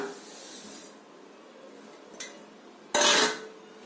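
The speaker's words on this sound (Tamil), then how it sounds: "ரவையை இப்ப வேற பவுல்ல மாத்திக்கலாம்" Dry semolina is poured from one bowl into another, giving a soft granular hiss. A brief tap follows, then a louder rushing pour near the end.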